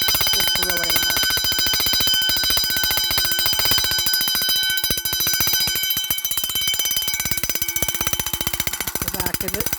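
A Vulcan Autosonic Mark 30 heat detector alarm bell rings continuously, a very loud, rapid metallic clatter held close for about ten seconds with no pause and no talk.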